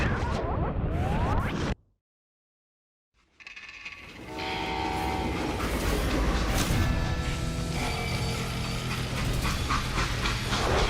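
A freight train in the video game Call of Juarez: Gunslinger rumbles loudly and keeps going, with horn-like tones and clanking railcar noise. A burst of noise comes before a short silent gap.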